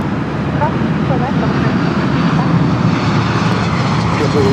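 A fixed-wing airliner on short final to runway 24 right at LAX gives a steady, loud engine roar that holds evenly throughout the clip.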